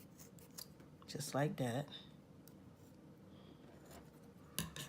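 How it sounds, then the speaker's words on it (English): Scissors snip off the top of a pop-up paper craft in two quick, crisp cuts up close, with a brief spoken voice before and a light tap near the end. "I'm going to cut the top off,"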